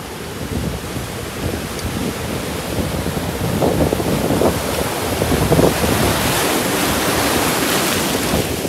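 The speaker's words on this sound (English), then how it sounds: "The waves were fucking awesome today." Ocean surf rolls onto Indiatlantic Beach, Florida, at night, a broad, steady roar of breaking waves that swells slightly toward the end, mixed with gusty wind rumble on the microphone.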